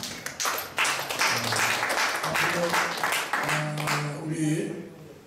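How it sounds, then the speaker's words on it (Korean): Applause from a gathering at a church breakfast prayer meeting welcomes guests, a steady, moderately loud patter of clapping that continues while a voice speaks over it. "박수로 환영해 주시기 바랍니다"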